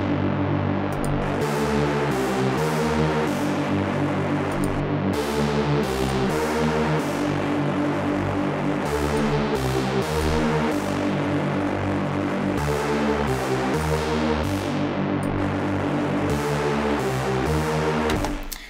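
Repeating music loop with high-frequency distortion blended in parallel, giving a gritty, buzzing edge layered over it, bright and dense, playing continuously at steady volume.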